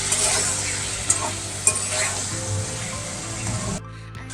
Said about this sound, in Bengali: এই টমেটোটা ভাজছি।